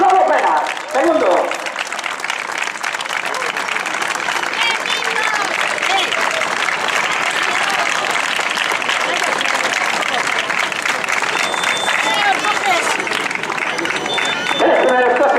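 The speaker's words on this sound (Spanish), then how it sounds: "Este aplauso, Lolo Pena, segundo." Crowd applause at the finish line of a popular road running race in Meaño, with steady, sustained clapping from a sizable group, loud and continuous throughout, with some cheering and babble mixed in.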